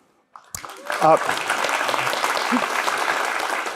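Conference audience at BazelCon 2022 breaking into applause, starting abruptly after a brief silence and building into dense, sustained clapping from a large crowd, with a short voice briefly heard at the outset.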